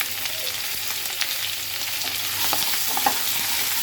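Pumpkin pieces fry in a pan with green chilies, turmeric and salt. A steady sizzle crackles beneath stirring scrapes that get a bit louder toward the end.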